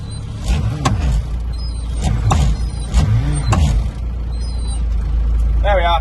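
An old tractor engine runs in reverse with a steady low rumble throughout, broken by a few loud knocks and clunks in the first half and a short whine near the end; a voice talks over part of it.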